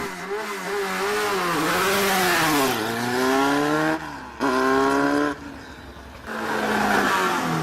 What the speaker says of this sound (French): La voiture numéro 14 de Joël Lemoine au départ avec sa Dallara.